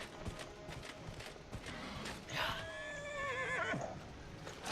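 A horse in the video game Dragon Age: Inquisition whinnies once in a shaky, descending neigh over a busy background of game noise and faint clip-clop.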